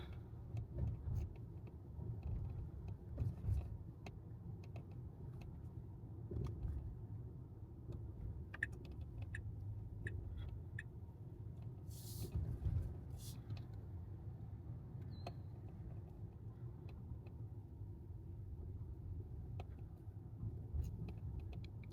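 A car drives through city streets in New York, giving a steady low engine and road rumble from inside the cabin, with a few faint creaks and ticks over the top.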